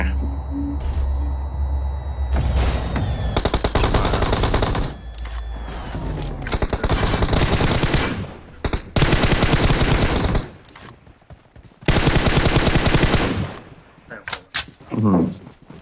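Bursts of rapid automatic gunfire in PUBG Mobile, loud and repeated in several volleys, with gaps between them and some talking mixed in.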